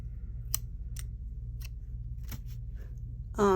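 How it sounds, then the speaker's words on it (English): Several crisp scissor snips cut crochet yarn at close range, spaced about half a second apart over a steady low hum, with a brief louder rustle at the end. "I'm going to fasten off and cut my yarn"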